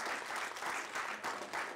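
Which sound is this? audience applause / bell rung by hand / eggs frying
audience applause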